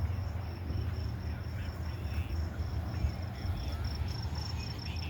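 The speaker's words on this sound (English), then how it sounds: "Man, the bugs down here are crazy." Insects chirp continuously at night at a campsite on the Missouri River, forming a dense, steady high-pitched buzzing over low background rumble.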